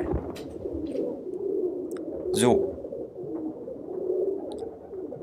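Pigeons coo in the TKKG 17 Die Feuerprobe video game, a steady low warble running through the whole stretch while a voice speaks briefly over it.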